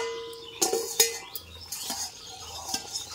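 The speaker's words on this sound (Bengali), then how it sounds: "5 মিনিট হয়ে গেছে, এবার ঢাকাটা তুলে নেব।" A metal lid lifts off a pot of simmering fish curry with potatoes, giving a few sharp clinks and scrapes, then softer clatters in a quiet kitchen.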